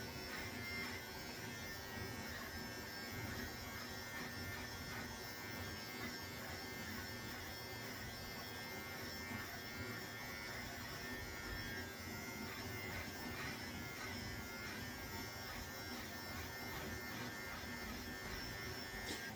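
A beard trimmer cutting a short beard at the chin, a steady close electric buzz that runs unbroken at a low level.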